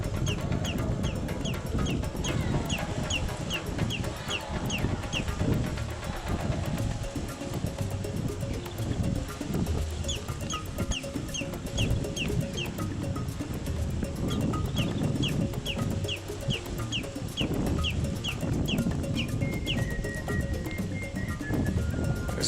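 Royal terns call in repeated harsh, rasping bursts over a steady wash of surf and wind along a Carriacou shoreline, the calls coming in rapid clusters at mid distance.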